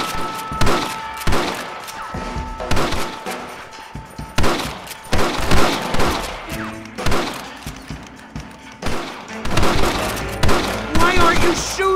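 Rapid bursts of gunfire from the Western game Red Dead Redemption crackle in dense, repeated volleys, loud and close, with short gaps between clusters of shots over a background of game ambience.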